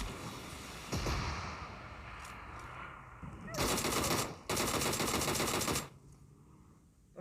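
A rocket launcher fires in the PUBG Mobile game, heard as loud bursts of rapid automatic crackle in two long runs over a noisy background.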